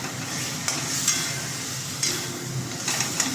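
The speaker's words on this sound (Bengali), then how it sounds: "এই মশলাটা আমি নাড়াচাড়া করে ভালো করে কষিয়ে নিই" Spice masala is stirred and fried in a pan with a continuous close sizzle, while a spatula scrapes and knocks against the pan every second or so.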